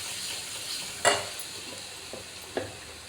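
Ground cumin seeds fry in hot oil for a simple home rasam, giving a soft, steady sizzle with two sharp knocks of a utensil against the pan.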